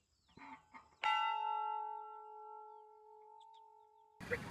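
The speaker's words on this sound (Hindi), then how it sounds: "यहाँ पे घंटी भी है बजाने।" A single temple bell is struck once and rings out clearly, its tone sustaining and slowly fading for about three seconds after a brief bit of murmuring.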